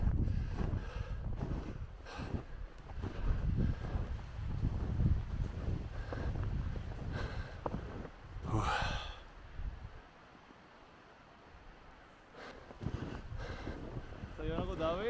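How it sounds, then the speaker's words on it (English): Strong gusting wind buffeting the microphone at Highwood Pass, a mountain pass, with loud low rumbling bursts that ease toward the end as a voice briefly breathes and speaks under it. "it's pretty damn windy."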